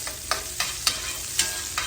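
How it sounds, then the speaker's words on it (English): Onions and jalapenos sizzle steadily in hot bacon fat in a pan, with a few rhythmic stirring scrapes punctuating the crackle. "Got our onions frying and our jalapenos just bathing in all that beautiful bacon fat."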